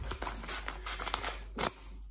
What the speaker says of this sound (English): I need to get my scissors.